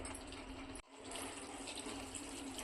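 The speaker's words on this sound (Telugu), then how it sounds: "కొద్దిగా వాటర్ వేసుకుని ఉడికించుకుంటే" A continuous gentle stream of water, about a small glassful, pours into a raw cashew nut curry, briefly pausing before resuming, fairly quiet and close.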